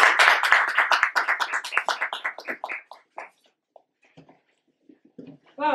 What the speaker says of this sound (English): let's give her a warm round of applause